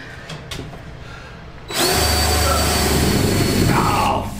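A power drill drives self-tapping screws into the roof of a school bus being converted into a tiny home. After a quiet start, a loud, close, steady whirring grind runs for about two and a half seconds, then stops.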